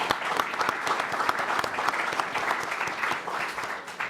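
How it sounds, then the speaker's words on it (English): Audience applause for the speakers at the close of a conference session, a steady dense clapping from a room full of people that continues evenly throughout with no talk over it. "I'd like to give a round of applause to all the speakers."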